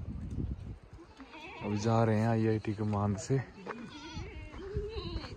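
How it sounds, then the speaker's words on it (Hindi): A herd of goats gathered on a hillside road near IIT Mandi Kamand, bleating loudly in a couple of drawn-out, wavering calls while someone talks in Hindi. "बकरियां हो गई सारी इकट्ठी इधर"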